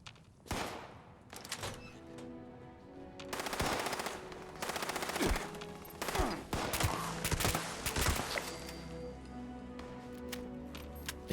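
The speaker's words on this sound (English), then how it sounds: "Who's shooting at me?" Gunfire in the video game Fallout 76: rapid automatic bursts and single shots crackle across several seconds, loud and close, mixed with thuds and impacts.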